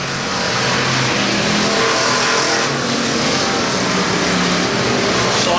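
Pure stock race cars roaring around a speedway during a feature race, a loud, dense, continuous engine roar from several cars at once, steady with no pauses.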